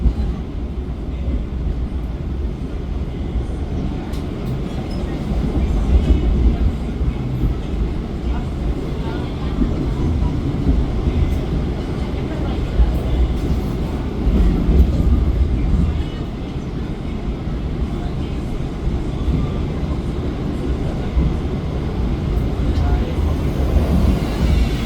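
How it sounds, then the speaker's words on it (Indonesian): The Gaya Baru Malam Selatan train pulls into Purwokerto station with a loud, steady low rumble and rolling clatter for the whole stretch, while faint voices sound now and then. "Kereta api Gaya Baru Malam Selatan tiba di stasiun Purwokerto"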